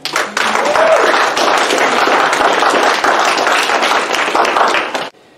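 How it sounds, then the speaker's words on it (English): A church congregation bursts into loud, dense applause that carries on steadily for about five seconds, then stops abruptly. "Yes, you can applaud."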